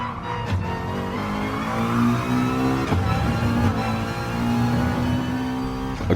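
A McLaren race car engine drones steadily at high revs around Brands Hatch in Gran Turismo Sport, a continuous loud whine with slight pitch shifts through gear changes and corners, with no talk over it.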